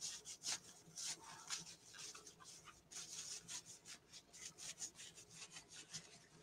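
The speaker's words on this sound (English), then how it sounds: "So I'm just wiping down my apple. Make sure you get down in there." A candy apple is wiped down by hand in a steady run of soft, repeated rubbing strokes, close and fairly quiet, with no talking.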